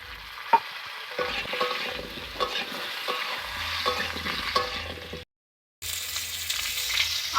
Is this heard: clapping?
no